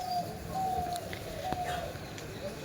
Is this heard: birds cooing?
yes